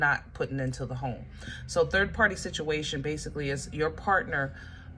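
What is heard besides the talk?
No distinct noise like a dog, phone or traffic.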